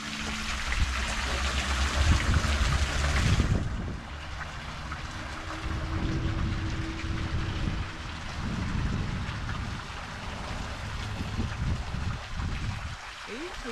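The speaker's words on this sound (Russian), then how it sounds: "По пути даже есть очень маленький водопадик." A very small waterfall along a walking trail at Larochette, Luxembourg, gives a steady rushing splash of water that is loud at first and then continues at a lower level.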